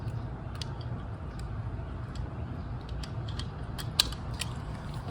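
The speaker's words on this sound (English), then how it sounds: "get this socket on my 3-inch torque wrench" A torque wrench with a socket ratchets on a 2017-2022 Honda CR-V during service, giving quick, faint clicking bursts at irregular intervals over a low background hum, with one sharper click near the end.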